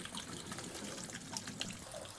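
Water drains steadily from an RV camper's hot water tank in a continuous rushing trickle, close and unbroken, with no voices.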